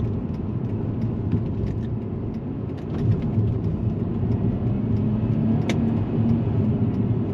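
A Mercedes-Benz CLK200 Kompressor (C209) engine hums and pulls from inside the cabin during a manual paddle-shift run in sport mode, a steady low drone with slight swells.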